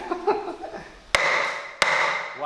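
Two sharp, ringing hammer blows on a metal cross member of a wrecked Tesla, each leaving a bright metallic ring that decays, after some quieter handling noises.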